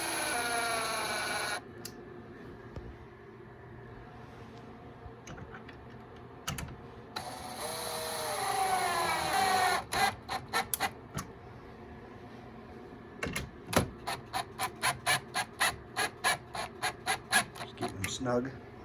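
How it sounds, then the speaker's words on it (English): A run of short, sharp mechanical bursts from a cordless drill driving screws into an IKEA HEMNES TV unit, repeated in quick succession near the microphone, with a steady background hum. "if you're using a power cordless drill like this, you can snap some of these fasteners"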